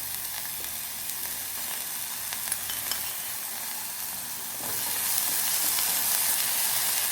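Chinese bhel with salt and Schezwan chutney is stirred and fried in a pan, giving a steady sizzle with scraping stirs that grows louder toward the end, with no talking.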